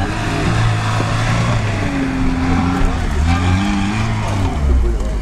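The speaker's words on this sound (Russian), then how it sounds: "Ну давайте посмотрим, как мне Васик заедет в эту горочку" A Lada Niva engine drones and strains as it climbs a hill at an off-road competition on the steppe. The engine pitch rises and shifts with revving, and people talk over the sound nearby.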